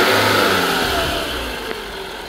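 A 2016 Toyota Venza engine runs close by with a steady mid-pitched hum, slightly revved at first and then settling toward idle, loud and continuous with no voices.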